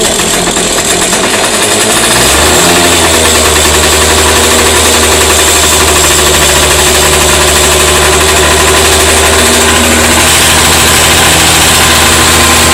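A Volvo Penta Sail 38 outboard engine with a 12-volt generator starts after a brief crank, then settles into a loud, steady, close-up running drone that continues unbroken.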